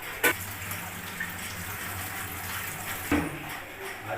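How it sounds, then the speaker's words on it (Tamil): Soaked biryani rice being drained, a steady rush of water falling through into a sink, with two brief louder splashes near the start and end. "இப்போ 1/2 மணி நேரத்துக்கு முன்னாடி ஊற வச்ச அரிசி இப்போ தண்ணி வெடிகட்ட போகிறோம்"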